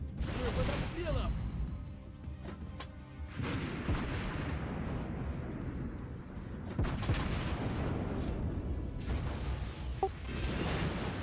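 Naval gunfire thuds in the World of Warships Blitz video game, heard as deep booms and salvos of explosions rolling under a low rumble, some sharp cracks standing out, with a faint voice talking at times.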